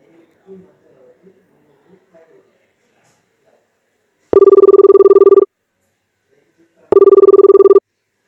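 A telephone rings in two loud, even bursts separated by a pause, following faint murmuring voices.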